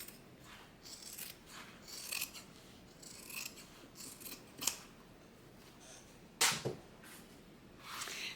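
Scissors snip through fabric while a tote bag is sewn, a run of close, crisp cuts with sharper clicks near the end, no talking.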